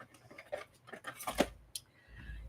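An old pair of stainless steel scissors snips through paper in a few quiet close cuts, with soft rustling between them.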